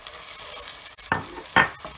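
Beef frying over high heat with onion, ginger and garlic pastes gives off a steady, low sizzle broken by two or three distinct spatula scrapes and stirs, close by, with no talking.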